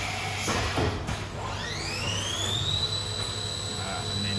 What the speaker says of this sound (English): That's just doing a dummy facing cycle at 2000 RPM.